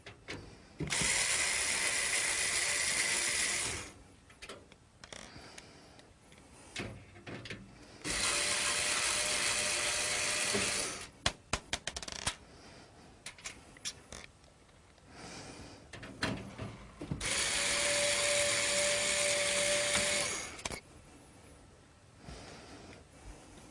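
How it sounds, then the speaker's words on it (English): Removing four screws from the back of a PC case and lifting out the power supply: three loud, sustained bursts of rapid ratcheting from a screwdriver, separated by quieter clicks, taps and handling of metal parts. "I'm going to simply remove them and take the power supply out of the system."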